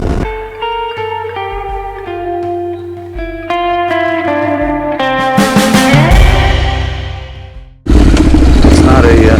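A Honda CTX 700 motorcycle engine hums at about 4,000 RPM while riding, its tone stepping up through gear changes before a loud rushing wind noise takes over near the end, with someone talking over it.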